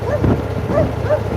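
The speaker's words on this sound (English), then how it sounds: "That's my dog, Braveheart, the Magnificent Conqueror, Lion" A dog gives three short, muffled barks at a steady pace, heard indoors over a constant low hum.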